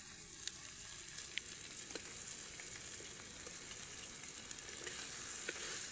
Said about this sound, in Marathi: त्याच्यानंतर मासे सोडून घ्यायचे एक एक करून